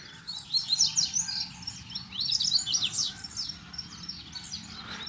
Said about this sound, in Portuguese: Estão só cantando e vindo aos poucos de longe.